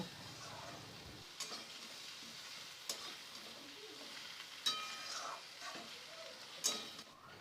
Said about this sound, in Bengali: এবার ভালো করে এটাকে নেড়েচেড়ে নেব।